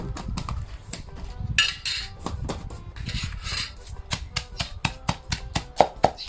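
Thai sour curry paste pounded in a mortar and pestle with salt, a steady run of sharp, close, woody thuds that quicken and grow louder toward the end.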